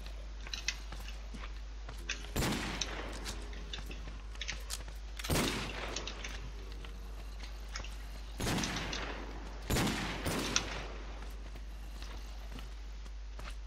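Weapon shots in a video game fired at creatures: about five sharp, loud cracks at uneven intervals over a steady low hum, with no talking.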